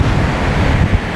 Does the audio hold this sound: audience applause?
no